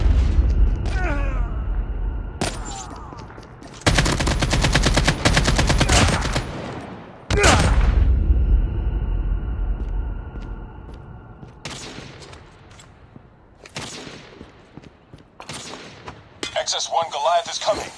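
Bursts of automatic gunfire and heavy booming shots in the Call of Duty Mobile video game, loud and repeated in clusters with short pauses, with game voice announcements in between.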